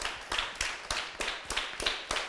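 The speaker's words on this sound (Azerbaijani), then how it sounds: "Ürəkdən alqışlayaq bizim milli qəhrəmanımız Polad Həşimovu." An audience at a talent festival claps in slow, even unison, about eight loud, rhythmic beats spaced roughly a third of a second apart, close and clear with no talking.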